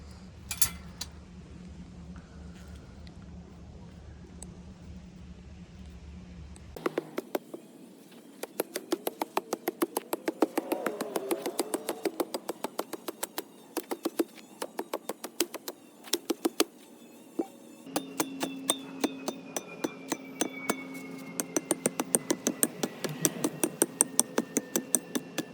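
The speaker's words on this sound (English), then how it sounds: "stick the spike through that hole and then I hammer it down." Repeated sharp metallic strikes of a metal spike being hammered into a post, in a steady rhythm, loud and close, with short pauses between bursts of hammering and no talking.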